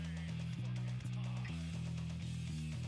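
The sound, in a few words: bass guitar music played fingerstyle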